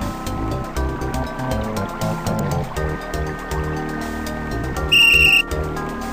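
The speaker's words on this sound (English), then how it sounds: "What's with the whistle around your neck? It's a magic whistle." A magic whistle blown in the Simon the Sorcerer adventure game gives a brief, shrill burst of stacked high tones over busy game music.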